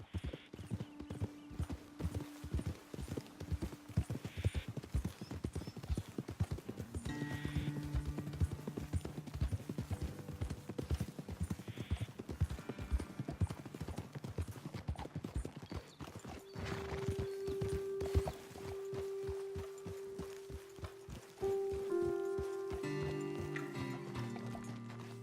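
Horse hooves clip-clop steadily in Red Dead Redemption 2 as several riders travel along a hillside trail, with a horse snorting and whinnying and soft game music underneath.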